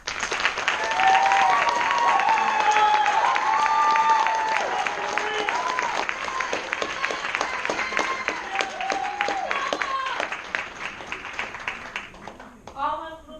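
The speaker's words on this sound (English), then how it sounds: "Please join me in giving the newest hospital corpsman a round of applause." Audience applause and cheering at a U.S. Navy hospital corpsman graduation ceremony, loud sustained clapping that gradually thins, with voices calling out over the crowd.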